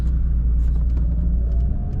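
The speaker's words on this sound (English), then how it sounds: "So let me pull the car out, and then let's go for a ride." A Toyota Supra MK3 driving along, a loud steady low engine and road rumble from inside the car, fairly constant with no clear revving.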